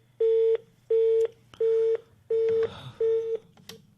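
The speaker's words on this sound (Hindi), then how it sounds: "लगता है जी कॉल ड्रॉप हो गई है" A dropped call on a live FM radio phone-in line leaves five evenly spaced, steady electronic beeps in a regular on-off rhythm, loud and clear over faint line noise.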